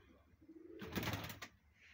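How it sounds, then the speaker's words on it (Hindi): A male pigeon, a gate cock paired with a Sialkoti hen, gives a single soft throaty coo of about a second against a quiet background at a pigeon loft. "ये वो कबूतर है गेट वाला जो मेन कबूतर है"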